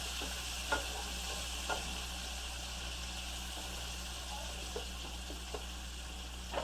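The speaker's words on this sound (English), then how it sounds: "Now let's just add our onions and peppers" Onions and peppers frying in oil in a pan, a steady soft sizzle throughout with a few faint scrape or stir clicks, quiet and continuous over a low background hum.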